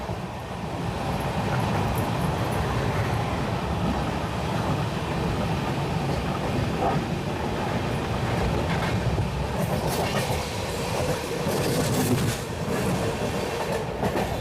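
Cocanada Express train running on rails between Warangal and Khammam, a steady loud rumble of wheels with rhythmic clickety-clack heard from inside the carriage throughout.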